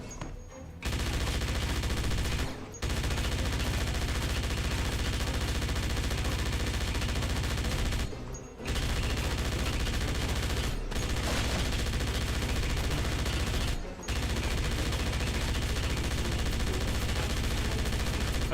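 Sustained automatic gunfire in Wolfenstein: The New Order, a loud continuous rattle of bullets broken only by a few brief pauses, with bullets knocking objects around.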